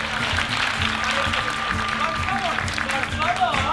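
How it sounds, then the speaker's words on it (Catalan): Audience of a school theatre performance applauds in a steady, soft wash of clapping, with talk heard above it. "Un aplaudiment,"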